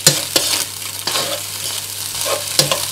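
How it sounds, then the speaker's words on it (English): A spatula scrapes and stirs pineapple egg fried rice in a hot pan, with a steady sizzle beneath and repeated sharp scraping strokes at an irregular rhythm, close and loud, without any voices. "You need to constantly stir this rice, otherwise it will stick on the bottom."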